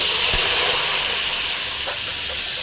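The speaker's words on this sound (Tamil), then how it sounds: "பூண்டு மிளகாய் போட்டுடலாம் இப்போ இது நல்லா கொஞ்சம் ஃப்ரை பண்ணிக்கலாம்" Garlic and chillies frying in a pan for a kuppaimeni herb soup make a loud, continuous hissing sizzle up close, easing slightly toward the end, with no talking.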